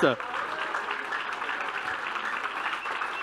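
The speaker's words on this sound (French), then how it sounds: "On peut applaudir Rima Hassan, on peut applaudir Varoufakis," Sustained audience applause at a public political event on Palestine, a dense, steady wash of many hands clapping that fills the room, with a brief voice at the very start.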